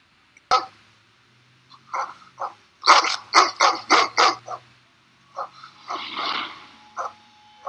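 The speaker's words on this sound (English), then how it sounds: "why is he barking at his owner?" A dog barks in a horror movie scene: a single sharp bark, then a rapid volley of loud, close barks and growly yips, with a few scattered barks afterward.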